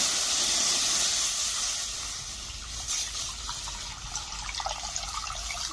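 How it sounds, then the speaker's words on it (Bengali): A litre of milk boiling in a wok, giving a steady bubbling hiss with soft gurgles and small pops close by, fading slightly partway through, no voices. "দুধটা ফুটে উঠেছে।"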